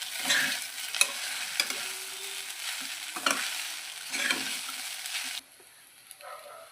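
Sago (sabudana) khichdi is stirred in a frying pan, with repeated scraping strokes over a soft steady sizzle, close by and fairly quiet, dropping away near the end.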